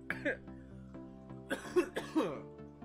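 Several short, rough coughs from a person break over a steady background hum in a loose cluster near the middle.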